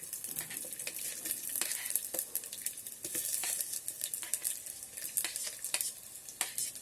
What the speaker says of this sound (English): Now fry the onions till they turn light golden color.